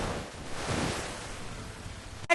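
Sea waves wash and splash in a continuous broadband rush with a gentle swell, ending in a brief sharp splash.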